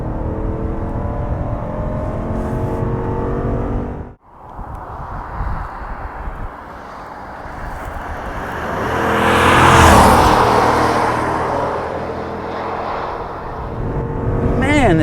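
A 2022 Jeep Grand Wagoneer accelerates hard through a tight right-hand bend, its engine note loud and steady, dipping briefly and then swelling to a rising roar before settling into continued pulling.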